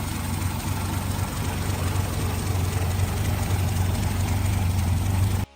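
A Chrysler 225 cubic inch slant six, an inline six tilted 30 degrees, in a 1960s Australian SV1, running at a steady idle with a deep, even low rumble throughout, close and continuous.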